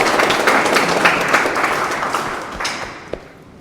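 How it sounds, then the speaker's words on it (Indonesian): Audience applause for a student during a university teaching session, a steady wash of clapping that fills the clip and gradually thins out toward the end, with a few isolated claps at the close. "tepuk tangan dulu untuk Fatira."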